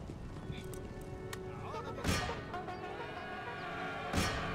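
Cavalry horses charge in Empire Total War amid a busy battle din, with whinnies, hoofbeats and two sharper bursts rising over the steady background; a voice talks faintly underneath.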